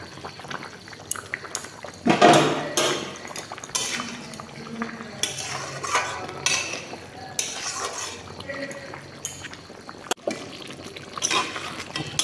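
Koi fish added to a pan of hot oil with turmeric, frying and sizzling while a utensil clinks and scrapes against the pan, with a sharp clatter early on and quieter stirring after.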